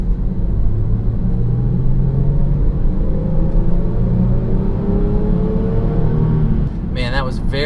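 A 2017 Range Rover Sport pulls hard under acceleration, its engine a steady, loud rumble that builds smoothly from inside the cabin with no break in the drone.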